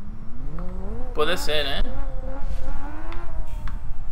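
A car engine in the driving game BeamNG Drive hums and rises in pitch as it revs, with a brief louder surge of engine and tire noise midway, all playing beneath someone talking.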